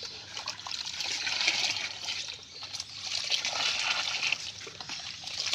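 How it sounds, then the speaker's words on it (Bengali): Water tipped mug by mug from a bucket into a soaked oil-cake fertilizer mix, a steady splashing trickle that swells and eases over several seconds, close by, with no talking. "এবার এখান থেকে 1 মগ করে বালতি দিয়ে দিতে হবে।"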